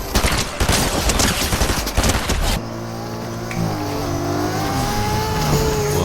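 Thunder SMG gunfire in Fortnite comes as a dense, loud rapid burst of shots for about two seconds, then gives way to a steady droning car engine hum.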